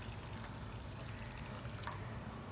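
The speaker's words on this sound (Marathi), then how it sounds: "असं गरम पाणी टाकायचं" Hot water pours steadily into a pan for chicken curry, a soft continuous splashing and trickle heard faintly on its own.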